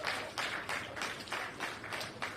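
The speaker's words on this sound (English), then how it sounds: "And another round of applause for all our stakeholders." Audience at a housing handover ceremony claps in a faint, steady rhythm, the clapping pulsing in even bursts from a distance with no talking over it.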